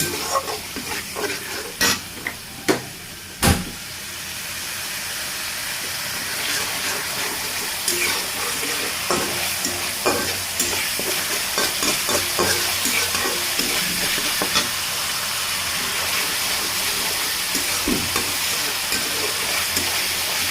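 A paste of ginger, garlic and cumin fries in hot oil, giving a steady dense sizzle with sharp spatter pops and occasional stirring clatters, close and continuous.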